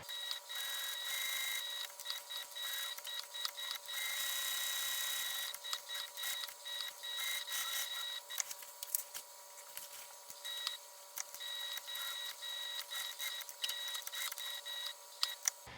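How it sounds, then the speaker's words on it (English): A sewing machine stitches steadily around the outside of a bag overlay piece sewn onto a lining panel, a continuous mechanical whir with small clicks and pauses, close and alone. "So you'll see me sew all the way around the exterior of this overlay piece."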